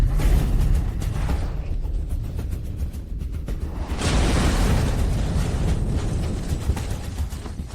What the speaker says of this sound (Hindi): देखो, मिसाइल वापस आ रही है।